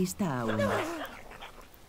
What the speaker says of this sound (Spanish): van a venir los perros a por él